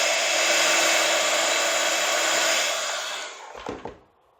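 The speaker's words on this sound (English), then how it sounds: "So I'm going to use my heat tool." A heat tool blows hot air over a watercolor Valentine card, giving a loud, steady whooshing hum for about three seconds before it switches off with a couple of clicks.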